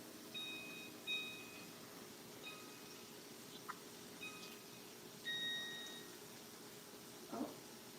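A kitchen timer gives short, faint electronic beeps while its buttons are pressed, scattered irregular chirps in a quiet kitchen during a cooking class.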